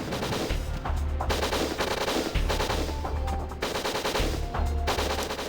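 Loud, sustained automatic gunfire from the N64 video game WinBack, rattling bursts broken by brief pauses, close and dominant throughout.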